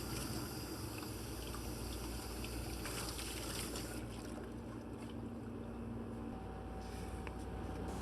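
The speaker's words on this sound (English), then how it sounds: "After the dip, I just wash it really quick" Water running steadily over a Damascus steel knife blade as it is rinsed after a ferric chloride etch, a continuous close gushing wash that shifts slightly midway and carries on without a break.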